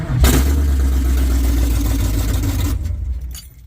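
A truck engine with no exhaust fitted runs rough and loud with a deep, throaty rumble, then cuts off abruptly near the end, leaving brief clatter.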